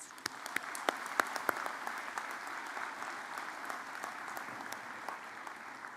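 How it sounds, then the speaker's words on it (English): Audience applause at a college convocation for a personal support worker program, a soft, even spread of clapping from a fairly distant crowd with a few sharper individual claps standing out. "Please give them a round of applause."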